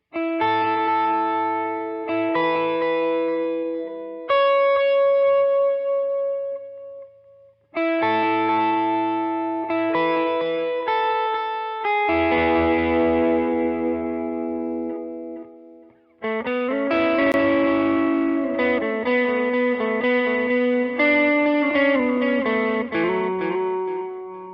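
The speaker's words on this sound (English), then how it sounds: "we'll come in with a high picking part with our delay, reverb, and overdrive on" Electric guitar with overdrive picking a bright, high melodic part, notes ringing out with delay repeats and reverb, playing alone in phrases.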